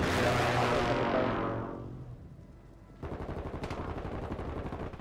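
Video game gunfire: a loud burst of shots decays into a faint tail, then after a short lull a close, rapid automatic volley rattles steadily to the end.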